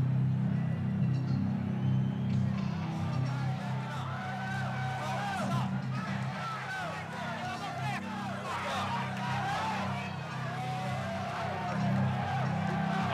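Arena crowd roaring continuously as heavyweight boxer Mike Tyson walks toward the ring, a dense, loud wall of cheering with scattered shouts, and an announcer talking over the noise.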